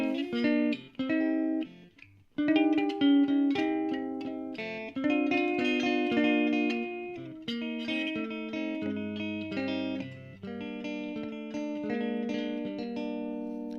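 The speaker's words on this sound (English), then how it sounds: "this doesn't sound like the best amp I've ever played through" An electric guitar plays clean picked notes and chords through a Monoprice 40-watt amplifier, ringing out in a steady, bright melodic passage with no talking.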